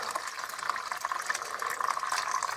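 Water from a Whirlpool AWM9000 washing machine pours out steadily in a continuous hissing, splashing stream, close and moderately loud, with no voices.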